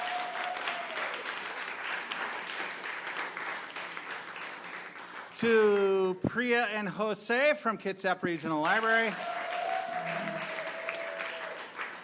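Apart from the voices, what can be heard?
audience applause at a storytelling night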